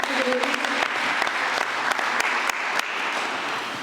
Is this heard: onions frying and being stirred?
no